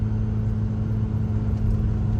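A car engine held at steady, partial throttle gives a continuous low, rumbling drone that stays close and fairly loud throughout, with no speech.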